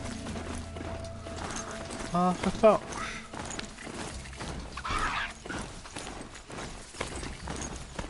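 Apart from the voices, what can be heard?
horse galloping in video game Horizon Zero Dawn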